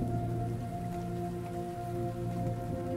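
Steady rain pattering during a children's meditation, an even continuous wash with a low sustained hum of tones beneath it; no distinct thunder clap stands out.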